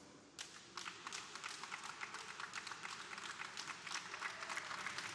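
An audience at a 2018 Ekiti, Nigeria political candidates' debate breaks into sustained applause that starts suddenly and stays steady, heard at a moderate distance with no talking.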